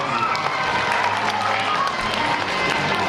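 A school audience at an upper-elementary anti-bullying show in Westchester County, New York, applauds as a guest joins them on stage. The clapping and crowd noise form a loud, continuous wash that fills the room.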